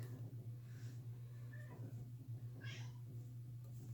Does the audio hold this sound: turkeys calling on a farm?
no